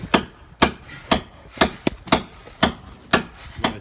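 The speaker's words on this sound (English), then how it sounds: "leave about that much that you have to hammer through at the bottom so it's a super tight fit" Roughly eight sharp, evenly spaced hammer blows ring out close and loud as steel rebar is driven through timber into the backyard ground, with no talk between the strikes.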